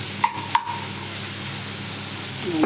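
Onion and green chillies fry in a pan with a steady, moderate sizzle, punctuated by two sharp utensil clinks early on and a scrape near the end, with no talk.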